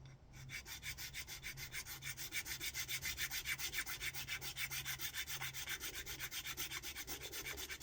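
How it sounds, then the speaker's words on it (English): A coarse file rasps rhythmically across a solid 3D-printed part in quick back-and-forth strokes, an even scratchy pulse repeating about five times a second, close but fairly quiet, with no speech. "I might use the coarser file."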